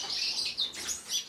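Small finches and Bourke's parrots chirp in a backyard aviary, making a soft, steady chatter of high, overlapping tweets at a moderate distance.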